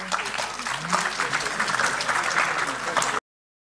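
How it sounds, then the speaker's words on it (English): Applause fills a conference hall, steady dense clapping from the audience at an academic progress review conference, with faint voices mixed in before it cuts off abruptly. "Time for applause, ladies and gentlemen."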